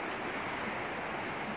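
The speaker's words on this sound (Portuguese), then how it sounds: "Olha para isso, está a chover" Rain patters steadily on a tent at a rough campsite in Namibia, with water coming through inside, a dense continuous hiss close by with no talk.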